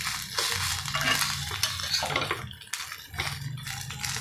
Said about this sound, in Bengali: লাল লাল করে ভেজে নেবে, অল্প তেলে ভেজে নেবেন